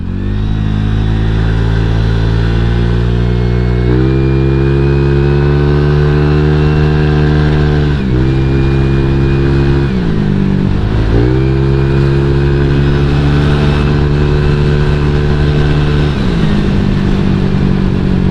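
A Honda Vario 150 scooter engine hums loudly and steadily up close, its pitch rising and dipping as the rider accelerates and eases off, with no voices.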